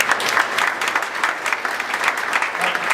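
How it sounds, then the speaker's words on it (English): Brief burst of audience applause for pilots' spouses at an aviation network conference, dense clapping from a crowd filling the room. "let's give a quick round of applause to the spouses who brought their pilots to this thing"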